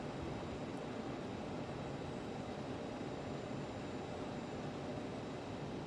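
Airplane engine noise from a flight simulator game, a continuous broadband roar and rumble at steady level throughout, with no talk.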